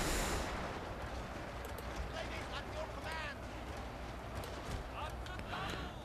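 Musket volleys from Levy Garrison infantry in a Total War Shogun 2 battle crackle in a dense, steady din of gunfire and battle noise, with sharp shots peppering the mix throughout.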